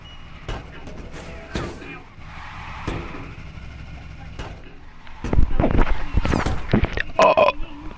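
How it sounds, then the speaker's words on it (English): Cartoonish burps from a character in LittleBigPlanet 3 on a SpongeBob-themed horror level, a few short bursts early on and then a louder, denser run near the end, mixed with game sounds. "Why am I keep burping?"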